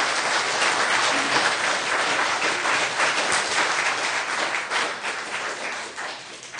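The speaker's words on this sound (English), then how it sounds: "there will be no more clapping or we'll clear the room" Sustained audience applause fills a city council meeting room, a dense, steady wash of many hands clapping that holds for several seconds before easing slightly at the end.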